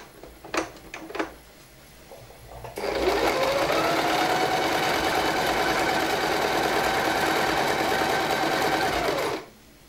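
A Silvercrest domestic sewing machine stitches a zigzag seam in one steady whirring run of about seven seconds. A few soft knocks and clicks come first, and the machine cuts off abruptly at the end.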